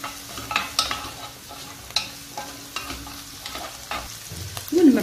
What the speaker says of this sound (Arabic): نقليهم مليح حتى هذيك الحميصه نزيد نقليها